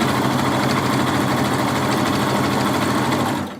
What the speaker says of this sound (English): So I'm just going to sew across the top.